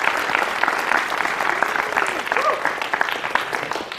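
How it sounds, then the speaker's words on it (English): Audience at the SpaceJam event applauds sponsors with steady, dense clapping that fills the room, with a few voices and cheers mixed in throughout. "Give them a round of applause, please."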